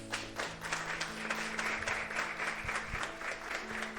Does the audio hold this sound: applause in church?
yes